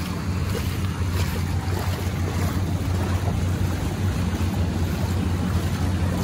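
Strong floodwater current rushing through a flooded street in Binondo, Manila, during a typhoon, a steady, loud, broadband roar of flowing water with wind buffeting the microphone throughout.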